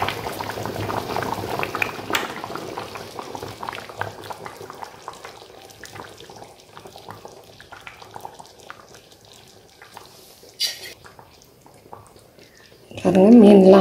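Village-style fish curry bubbling in a pot, a low continuous simmer heard under talking, ending in a loud burst of handling noise as the lid is lifted.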